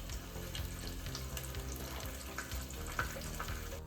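Short ribs brown in a pan, giving a low, steady frying sizzle with small crackles. It is fairly faint and continuous, with no one speaking.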